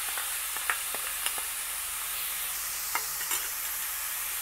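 Jackfruit husk curry simmering and sizzling in a pan as tamarind and jaggery are stirred in, giving a steady frying hiss with a few soft clicks of a spoon and no talk.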